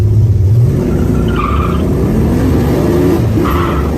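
Muscle car with a 351 engine and Hurst 4-speed shifter accelerating, a loud, continuous engine roar with deep low rumble and rising, shifting tones heard from inside, no talk.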